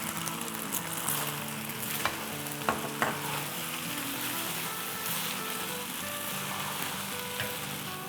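Kung pao chicken noodles sizzle and fry steadily in a hot pan as a cornstarch slurry goes in, with a continuous close hiss and a few sharp clicks of stirring against the pan.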